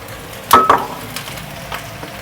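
Shrimp shells hit a hot pan for sautéing while cooking palabok, giving a couple of sharp sizzling bursts followed by a softer, steady frying hiss with faint scraping.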